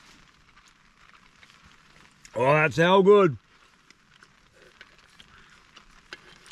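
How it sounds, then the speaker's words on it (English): Rain falls on the roof of a small bush shelter as a faint, continuous patter close by. Someone briefly speaks an exclamation partway through. "Listen to the rain on the roof."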